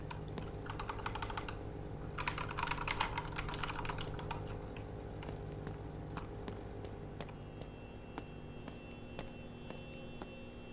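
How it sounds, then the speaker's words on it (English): Rapid computer keyboard typing and button clicks during a horror game session, a steady run of close, crisp keystrokes, dense at first and then sparser and more spaced out over a low background hum. "I'm clicking buttons."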